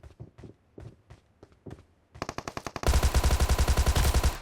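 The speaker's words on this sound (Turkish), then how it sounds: "Adam arkada bana sıkıyormuş ya." Gunfire in the mobile battle royale PUBG Mobile: scattered single shots at first, then rapid loud automatic bursts building into a sustained close volley.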